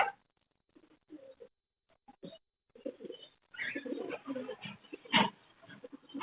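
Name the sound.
fancy pigeons cooing at a bird market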